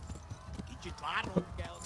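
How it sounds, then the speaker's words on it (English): Horse hooves clip-clopping up after a whistle in the video game Kingdom Come Deliverance, a short run of close hoofbeats under a voice. "You just whistle. Yeah, immediately a horse comes."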